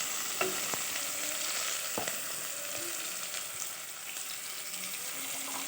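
Bitter gourd sautéing with onions in a pan, a soft steady sizzle with a few light scrapes and clinks of stirring, close and fairly quiet, with no talking.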